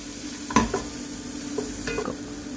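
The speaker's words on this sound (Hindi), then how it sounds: "जो हमने चिकन जूलियन में काट के रखा हुआ था वो हम इसमें थोड़ा सा फ्राई करेंगे" Thin strips of chicken fry in melted butter in a pan, giving a faint, low sizzle with a few brief stirring scrapes and clinks, quiet and close, with no talking.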